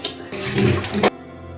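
Wheat milk pours and splashes briefly through a strainer, a short close gush of running fluid that cuts off abruptly into quiet.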